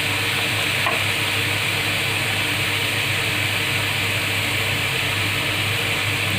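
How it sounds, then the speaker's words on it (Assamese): Ground cumin, coriander and chili powder fry in a pan with a constant, close sizzle and occasional stirring scrapes while a banana flower curry is prepared. "বেছি মছলাটো ভাজিব নালাগে, অকণমান ৰংচঙীয়া হ'লে হৈ যাব"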